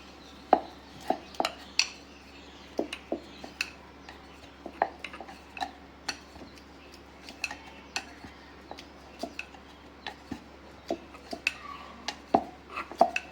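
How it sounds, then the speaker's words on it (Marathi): Dough balls are rolled out with a rolling pin on a wooden board, giving irregular light knocks and clicks over a faint background, with no talking. "हे गोळे आपण पोळपाटावर लाटून घेणार आहोत"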